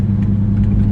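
Deep, steady V10 rumble from the 8.4-litre engine of a 2016 Dodge Viper ACR, loud and close with a constant throaty drone and slight rises in pitch, no voices over it.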